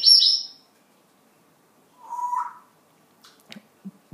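A person imitates a cat's meow for an 11-month-old baby, making a high squeaky mew followed by a lower drawn-out meow. Faint soft sounds follow the calls in an otherwise quiet room.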